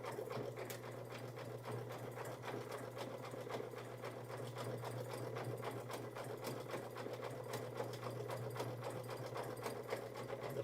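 A sewing machine runs steadily through a satin stitch, its fast needle-driven mechanical hum continuous and close for the full stretch, with no talk over it.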